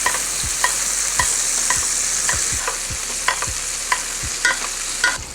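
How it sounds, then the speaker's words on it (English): Steaks sizzle steadily in a skillet while melting butter is spooned over them, with regular sharp taps and scrapes from the basting spoon every half second or so over a bright constant hiss, close and with no voices. "We're gonna let that butter melt and baste these steaks"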